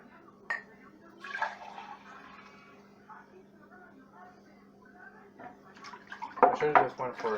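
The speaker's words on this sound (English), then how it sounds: "I'm gonna try to pour this into a bigger cup to add more milk." Coffee is poured from one cup into a bigger cup, a soft trickling splash near the end, preceded by faint clinks and handling noises over a low hum.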